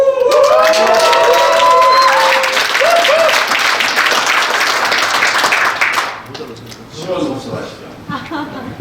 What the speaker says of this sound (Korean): 우리 큰 함성 갖고 박수 한번 치세요